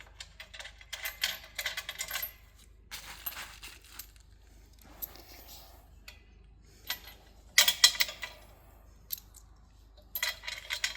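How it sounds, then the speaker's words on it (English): Small metal nuts and washers being hand-tightened onto a fold-down T-step bracket on a Ford Ranger Raptor, giving scattered light metallic clinks and rattles in short bursts with quiet gaps between, close by and fairly soft. "Just manually tighten those on by hand."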